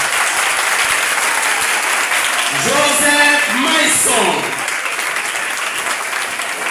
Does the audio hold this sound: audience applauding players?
yes